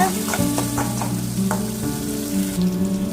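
Tamarind sizzling and frying in a pan while being stirred for pirandai thuvaiyal, a steady close hiss with occasional scraping knocks of the spoon, no voices.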